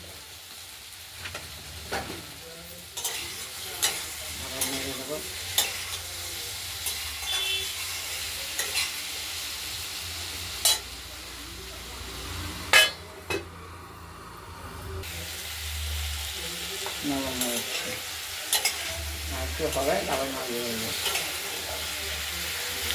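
Thin pumpkin strips fry in oil with mustard seeds and green chilli in a low, steady sizzle, broken by scattered spatula scrapes and knocks against the pan, with a brief voice.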